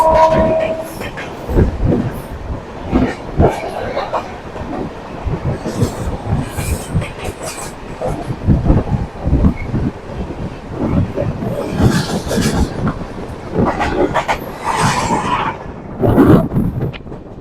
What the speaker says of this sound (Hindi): सामने से आ रही है दिल्ली आनंद कामाख्या के बीच में चलने वाली train number 12506 north east express.